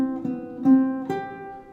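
A short melodic phrase of three plucked guitar notes in counterpoint style, each ringing into the next, played alone and clearly up close.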